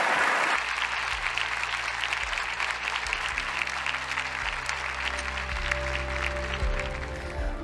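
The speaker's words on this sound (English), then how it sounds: "please give our Aston Martin drivers a round of applause." An audience applauds the Aston Martin Formula One drivers at a car launch event, a sustained, dense wave of clapping from a crowd that starts suddenly and holds steady throughout.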